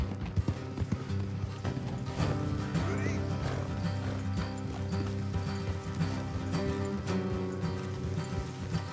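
Horse hooves clip-clopping at a steady trot in Red Dead Redemption 2, with occasional whinnies over a soft rain-like hiss and low game music.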